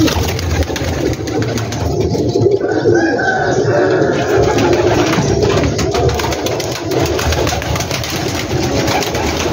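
Flocks of pigeons coo continuously on a large rooftop loft in Gujranwala, a dense, loud, overlapping murmur of calls with a faint voice in the background.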